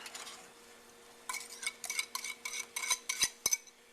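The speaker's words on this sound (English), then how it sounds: "now you continue to stir this constantly until it thickens enough that it will coat the back of a wooden spoon" A spoon stirs ice cream custard with tempered eggs in a pot, first faintly, then in a run of distinct scraping strokes that quicken and grow louder, ending with a few sharp clinks against the pan.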